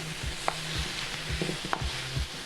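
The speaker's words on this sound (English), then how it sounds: "I'm gonna add some carrots for the color and for flavor" Carrots stirred in a hot frying pan, a loud close sizzle with rhythmic scraping strokes of a spoon repeating about every half second, without talk.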